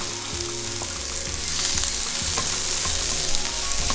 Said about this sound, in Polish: Cebulę wcześniej pokrojoną wrzucam na patelnię.